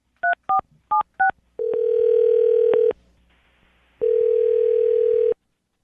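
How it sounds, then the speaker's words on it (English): Two-tone keypad beeps tap out a phone number in quick succession, then a steady telephone dial tone rings loud and clear for over a second, pauses, and sounds again alone. "I'm going to dial her phone number right now"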